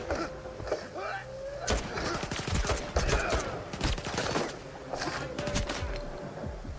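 Video game gunfire comes in bursts of sharp, clustered shots mixed with thuds and clatter, fairly close and loud, while a voice talks over parts of it.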